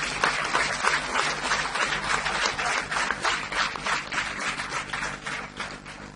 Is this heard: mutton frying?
no